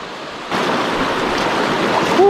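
Water from a Colorado mountain creek rushes steadily nearby as a broad, continuous wash that grows slightly louder partway through.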